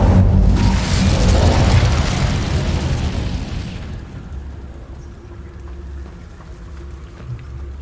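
An incendiary fire spell in Hogwarts Legacy erupts in a heavy, roaring boom that rumbles for several seconds, then fades to a low lingering tail.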